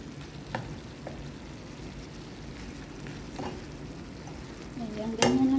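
Tofu frying in a pan with a soft, steady sizzle, punctuated by a few scraping stirs and a louder clatter and hiss near the end, no talking.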